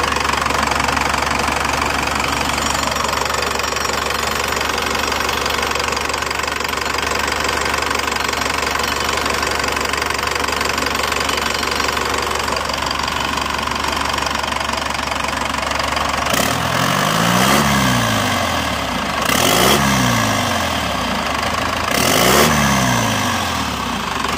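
A car engine runs steadily with a knocking, ticking idle after a manual-to-automatic flex plate swap, then near the end the revs sweep up and down three times in quick blips.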